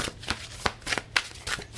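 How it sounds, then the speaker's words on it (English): Tarot cards being shuffled in a few quick riffling bursts, each a soft papery flutter with short pauses between, close and clear with no talking. "just shuffle like one more card."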